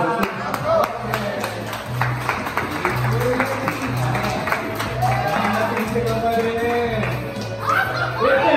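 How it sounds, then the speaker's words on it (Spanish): A studio audience applauds and cheers as a band is welcomed on a Spanish-language show, with steady clapping under laughter, crowd noise and music, while people talk over it. "Fuerte la aplauso."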